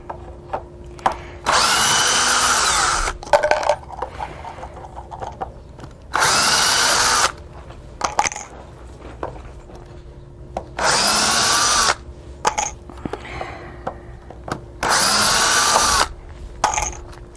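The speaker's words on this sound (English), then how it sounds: "I'm going to go around and I'm just going to take off these screws" Power drill backing screws out of a spalted elm and resin table, running in four separate loud bursts of about one to two seconds each, with quieter handling clicks and taps between them.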